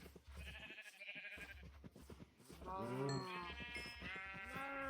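Sheep in Minecraft give a loud, wavering bleat in the second half, after clicky in-game noises and quieter bleats earlier on.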